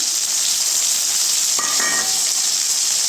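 Steady close sizzling and frying hiss as tomatoes go into onions already softened in a pan for Tamil-style mutton kulambu, with a brief stir-like clatter midway.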